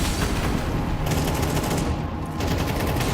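Dense rapid gunfire spraying in a Counter-Strike esports match, continuous loud shots with a short dip partway through, no voices.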